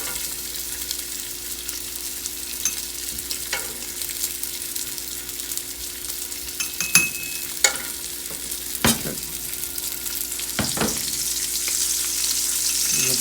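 Fat sizzles steadily in a one-pan jambalaya as a spoon skims it off, with clinks and scrapes against the pan over the frying hiss, close by and with no talk.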